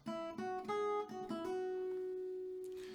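Acoustic guitar picking single notes of a song phrase, a handful of plucked tones in quick succession before the last note rings out and decays, close and clear with no voices.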